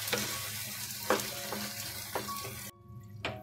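Pav bhaji mixture with potato and added water stirred in a pan, a soft continuous sizzle broken by several scraping strokes of a spoon, then a brief quieter stretch before one last scrape.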